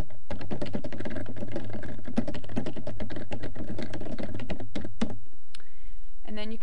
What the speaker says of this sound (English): So I type in my scene notes into this field.